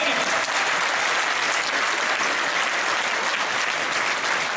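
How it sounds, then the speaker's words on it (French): Loud, dense applause from a large audience at a European political convention in Arras, a continuous roar of clapping close up that holds steady for several seconds without letting up. "C'est Jean-Marie, on l'applaudit."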